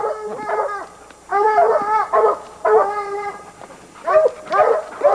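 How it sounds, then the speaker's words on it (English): A hunting dog on a bear hunt barks and bays in repeated bursts, near and loud, with short pauses between the calls. "Get that dog out of here."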